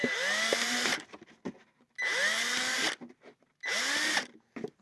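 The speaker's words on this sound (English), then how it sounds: "we're going to drill a series of holes in this bottle so it'll very slowly release water" Small drill bit boring holes into a plastic bottle for a homemade drip irrigation setup: three separate bursts of high, whining drilling, each about a second long and close up, with quiet handling noises in the gaps between them.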